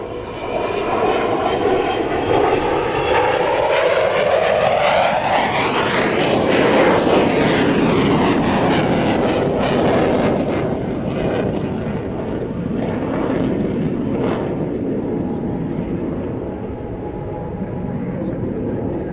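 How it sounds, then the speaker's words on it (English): An Avro Vulcan bomber passes with its landing gear down, a loud, sustained jet roar that swells and sweeps past, with descending whine tones as it nears and recedes. "Gear down with the Vulcan."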